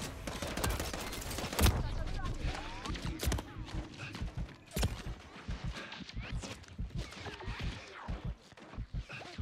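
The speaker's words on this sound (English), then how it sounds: "Thought somebody was shooting me." Gunfire in Call of Duty Modern Warfare 3 on Xbox Series X during an assault on a reactor dome: sharp bursts and scattered shots with footsteps and movement, loud and close, continuing throughout with no talk.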